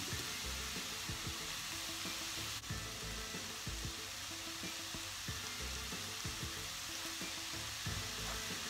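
Vegetables for a ravioli filling sautéing in a pan, a steady moderate sizzle with occasional stirring scrapes and clicks, continuous and close with no talk.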